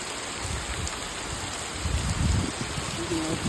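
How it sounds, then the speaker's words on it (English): Heavy rain pours steadily at the Jersey shore, a dense continuous wash of noise with a few louder gusts partway through and no voices. "It's raining so hard that you can barely see the rain."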